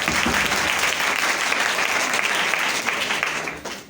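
Loud, dense audience applause for Anil Bhaiya at a gathering, steady and unbroken for about four seconds before tapering off slightly at the end.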